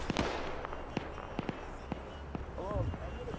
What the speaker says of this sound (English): Why is there fucking four of you shooting at one target?